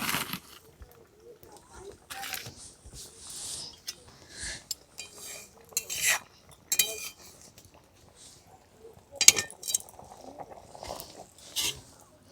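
A cooked fish dish in a Bengali home kitchen is lifted off the stove, with scattered metal utensils clinking and scraping in short bursts against pots. Between the clinks there are soft rustles and handling noises, and no one speaks.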